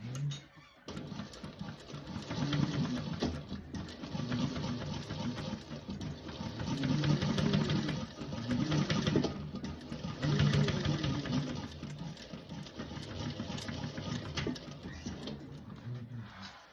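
A sewing machine runs steadily for about sixteen seconds, basting a pocket in place, with a continuous mechanical whir and even rhythmic stitching that swells slightly at times, with no talking.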